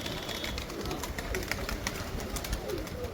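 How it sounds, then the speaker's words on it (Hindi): Domestic pigeons give soft, low cooing calls from a rooftop loft, a few gentle murmurs set in constant hissing background noise and scattered clicks. "भाई बहुत ही प्यारे कबूतर माशाल्लाह।"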